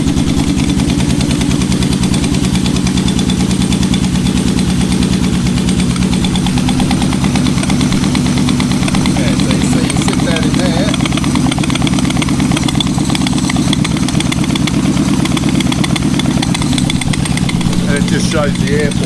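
A Yamaha Vmax motorcycle engine runs steadily and loudly close by, a continuous low throbbing idle with a rough, buzzing edge that holds without pause for the whole stretch.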